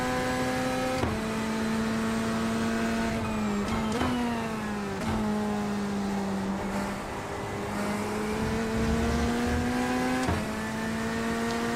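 A V12 race car engine roars in a sim racing game, holding a loud, steady drone. The pitch climbs through repeated gear shifts, with short dips between the pulls, and no one talks over it.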